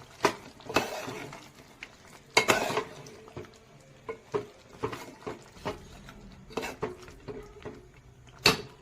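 Spices stirred into a chicken curry in a pot, with irregular close clinks and scrapes of a spoon against metal and soft wet mixing sounds between them, and no speech.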